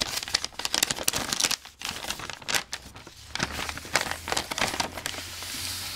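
A taped mail package holding Pokémon cards is cut open by hand, giving close, busy crinkling and tearing of tape and paper with short pauses between bursts.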